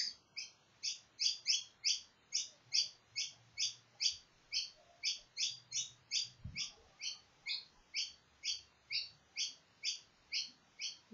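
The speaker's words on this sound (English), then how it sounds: "Those little Indian minor birds are all" Indian myna birds calling in a steady run of sharp, repeated chirps, roughly two per second, fairly close and clear throughout, with a brief low thump partway through and no talking.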